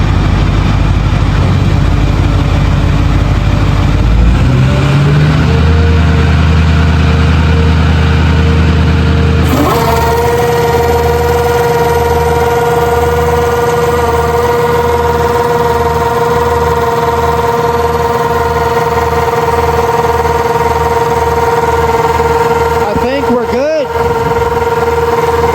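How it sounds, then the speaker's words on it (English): A Boss air compressor runs after being repaired. It starts up and builds to a loud, steady motor drone with a low pulsing rumble, heard close up and continuous through to the end. "There it is. There's your Boss air compressor."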